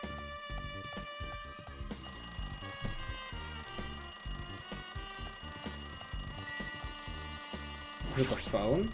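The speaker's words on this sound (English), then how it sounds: "do you know how long the phone was ringing?" A telephone rings in Danganronpa 2, a repeated bright electronic trill with a pulsing rhythm that goes on throughout at moderate level, mixed with game music and tones, then a brief rustling burst near the end.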